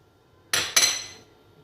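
A spoon clinks twice against a bowl while yeast is added, two sharp close metallic taps in quick succession that ring briefly before fading, with quiet room tone around them.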